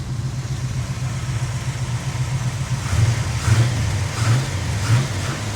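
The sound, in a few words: Camaro 383 V8 engine running with headers, dual exhaust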